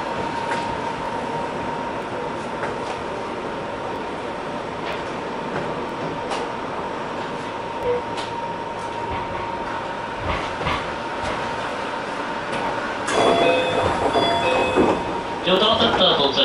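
Keio limited express train pulling into a station on the Shinjuku–Hashimoto line, a steady rolling rumble and hum of the carriages with announcements over it, then brighter clatter and squeal near the end as it slows to a stop.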